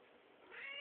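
A house cat gives a single short, faint meow that rises in pitch at the end, heard alone and quiet.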